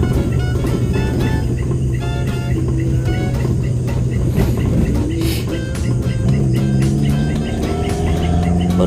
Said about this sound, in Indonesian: Berjalan ini saya pakai mobil Jimny Katana, tapi gak 4x4, cuma 4x2